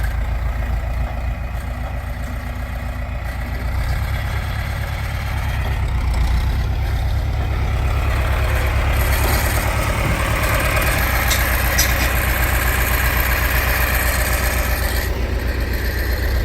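A tractor engine idles while wrapping heavy oat greenfeed bales, a loud steady low chugging drone that continues throughout, with light mechanical rattles and clunks rising above it in the second half.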